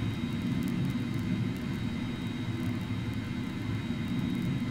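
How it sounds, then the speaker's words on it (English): Fokker 100 jet airliner engines in a flight video game, a steady, continuous roar and whir at even loudness throughout, with no talking. "It's a Fokker 100!"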